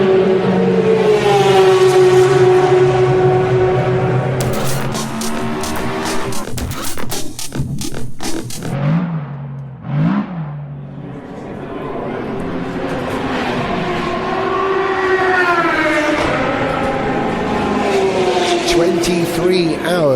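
Audi Sport Team Joest e-tron quattro R18 prototypes racing at the Le Mans 24 Hours, loud engines and whines sweeping past with Doppler pitch falls, bursts of passing cars and a brief lull, with a voice talking over parts.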